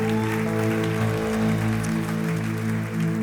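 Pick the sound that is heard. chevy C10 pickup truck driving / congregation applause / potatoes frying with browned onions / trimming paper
congregation applause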